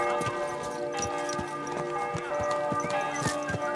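A horse ridden through a medieval Bohemian setting in the Kingdom Come: Deliverance II game, hooves clip-clopping in a steady repeated rhythm, close and clear over a sustained musical backdrop, with occasional talk.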